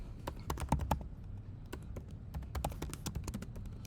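Rapid, uneven keystrokes on a computer keyboard while code is typed, a dense run of close, crisp clicks with brief pauses between bursts.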